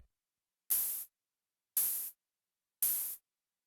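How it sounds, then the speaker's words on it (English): Three open hi-hat hits synthesized from white noise in the Vital synthesizer, each a bright burst of hissing noise that sustains briefly then cuts off, evenly spaced with silence between. "I created this hi-hat sound from scratch using white noise in Vital."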